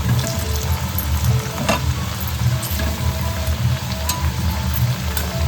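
Coriander vadi pieces fry in hot oil on a griddle, giving a loud, dense, continuous sizzle with scattered crackles and occasional light tool clicks, close up and without speech.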